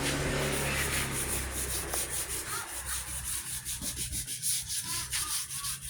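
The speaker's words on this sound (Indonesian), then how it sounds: "setelah selesai pendempulan ini kita melakukan pengamplasan lagi ya, pengamplasan." Steady rhythmic sanding of body filler on a Hyundai under restoration, abrasive strokes rubbing back and forth close by, no voices.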